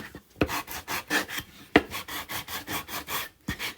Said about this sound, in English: So I just have a medium sanding block.